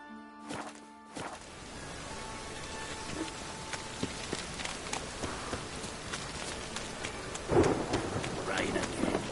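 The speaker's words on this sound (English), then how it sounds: "Rain again." Rain patters and thunder rumbles in the Witcher 3 video game, a steady wash of rainfall with scattered drops and a low rolling thunderclap near the end, after a short musical tone at the start.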